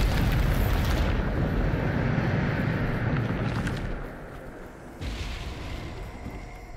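A loud Bombarda explosion spell from the game Hogwarts Legacy lands as a heavy, rumbling blast that roars for several seconds and slowly fades. A second booming burst follows near the end.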